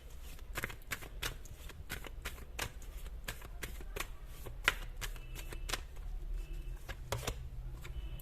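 Tarot cards shuffled by hand at close range, a steady run of crisp flicks and riffles spread across the stretch, with only a faint low room hum beneath.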